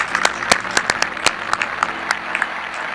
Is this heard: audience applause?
yes